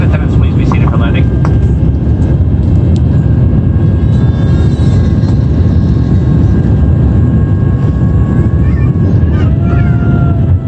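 Cabin of a passenger airplane landing at Lihue Airport on Kauai, Hawaii: loud, constant engine and air roar with faint tonal whines and some voices beneath.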